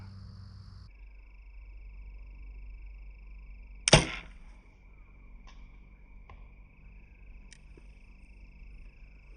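An arrow shot at long range in an outdoor 3D archery course lands with a single sharp, distant smack at a foam target, amid a faint drone of insects and frogs.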